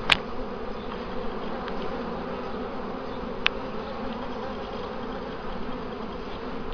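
Bees buzz steadily around an opened beehive, a dense, close droning hum that continues throughout with a brief sharper rise near the start.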